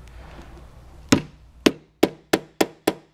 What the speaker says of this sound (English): you can switch over to a soft mallet, even a small ball peen will work. And sometimes it takes a couple hits.